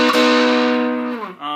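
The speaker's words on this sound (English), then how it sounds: "bridge pickup, and full distortion on the clipping circuit" Electric guitar on its bridge pickup driven through a built-in clipping distortion circuit, one sustained, saturated chord ringing out loud and thick before dropping and briefly re-striking at the end.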